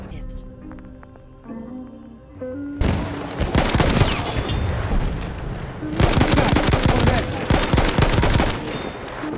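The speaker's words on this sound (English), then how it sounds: "There's an enemy machine gun." Gunfire in a video game: an enemy machine gun lets off loud, dense automatic bursts with heavy fusillades, starting abruptly after a quieter stretch with voice and continuing almost without pause to the end, while a player talks over it.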